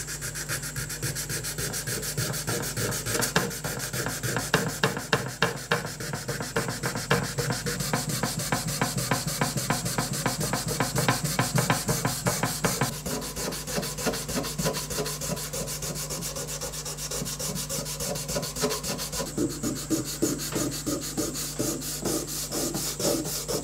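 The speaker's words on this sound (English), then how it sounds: "So I'll just give that a light sand" A painted wooden surface lightly sanded by hand, steady close rhythmic scratchy strokes continuing back and forth throughout.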